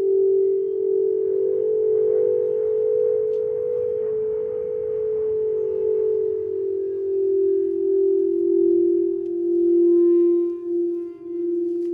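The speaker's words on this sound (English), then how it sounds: "These bowls are just giving off crazy vibrations, making my whole heart shake" Singing bowls ring in a sound bath, a single sustained pure tone humming steadily and close for about twelve seconds, gently wavering and fading slightly near the end.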